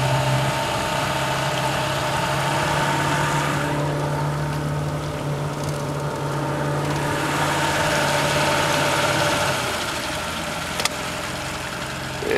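The outboard engine of a 1989 Pro Craft pontoon boat runs steadily in reverse on a lake, a close, even drone with a low hum that shifts and fades slightly toward the end.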